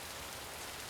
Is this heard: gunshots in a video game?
no